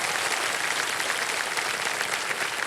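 Steady, dense studio audience applause on a televised quiz show, a continuous wash of clapping with no voices over it.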